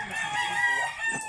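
Chickens crow and cluck close by, a brief burst of bright calls with a short second call near the end, standing alone without talk.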